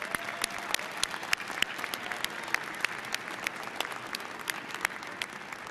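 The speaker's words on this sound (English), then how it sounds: "Please, another round of applause for our graduates." Audience in a university hall applauds graduates at a Virginia Tech graduate school commencement, a fairly quiet, distant wash of clapping with a few sharper individual claps standing out, no talk over it.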